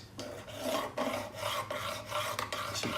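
A metal file rasps across the edge of a steel cabinet scraper in about six even back-and-forth strokes, close and loud, with no talking.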